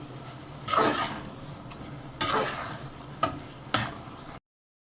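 Cumin powder and garam masala sizzle in a pan as they are stirred and fried for achari dal. Four separate scraping stir strokes rise over a quiet, steady background sizzle, and no one speaks.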